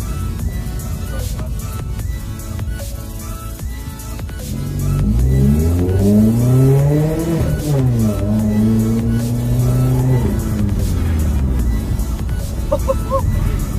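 A car engine fitted with a Cobra sports exhaust revs up hard with a deep, throaty exhaust note, rising and falling in pitch over several seconds, close by and loud.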